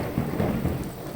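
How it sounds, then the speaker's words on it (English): A video-game thunderstorm in Farm Manager 2018 rumbles with a deep, continuous roll of thunder over a steady hiss of rain, moderately loud with no talk. "Boy, listen to that thunder coming down."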